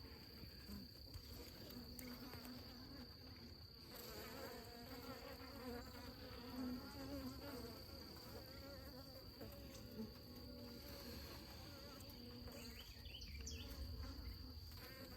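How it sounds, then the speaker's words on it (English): A dense, steady hum of many honey bees buzzing close by at a hive, with no voices, holding at one level throughout. "she's got a lot of bees"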